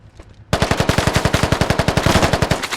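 Rapid automatic gunfire in a shooter video game, a player pre-firing a corner: a dense, loud burst of evenly spaced shots running steadily for over two seconds after a brief quiet lead-in.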